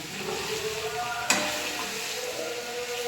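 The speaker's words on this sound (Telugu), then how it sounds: "మసాలా వేసి బాగా ఫ్రై చేయాలి" Spice masala frying in a pan, a steady close sizzle with one sharp clink of a utensil partway through and no voices.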